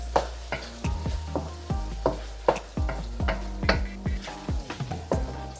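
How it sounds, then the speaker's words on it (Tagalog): Ground beef ulam seasoned with fish sauce being stirred in a frying pan, with repeated scraping strokes of a utensil against the pan over a steady sizzle, close and fairly loud, no talking. "Tapos haluin nyo."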